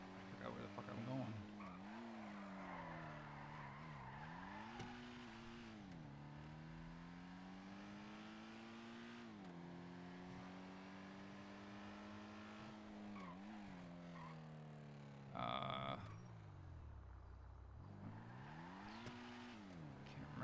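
In a video game, a car engine drones and revs up and down repeatedly, pitch climbing and dropping, with a short burst of squealing tires partway through.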